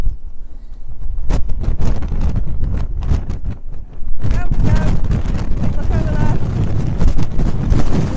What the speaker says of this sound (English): The wind is howling today.